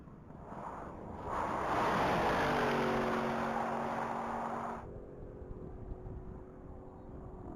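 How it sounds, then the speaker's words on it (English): A 2023 Porsche Cayenne Turbo launches at the Texas Mile top-speed event, its engine roaring loudly then fading into the distance as it accelerates away, with rising gear tones trailing off. "taking it off of the line is vehicle 409"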